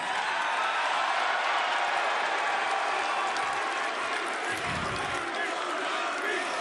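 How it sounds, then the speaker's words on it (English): Wrestling arena crowd applauding and cheering in a dense, steady roar that fills the whole clip, loud and continuous without a break. "Hold your applause till after I'm done, please"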